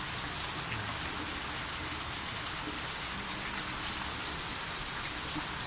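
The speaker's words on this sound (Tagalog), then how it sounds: "Malakas ang ulan." Heavy rain falls outside a dark house beside a street, a steady, dense hiss of drops on surfaces that holds even and unbroken throughout, with no voices.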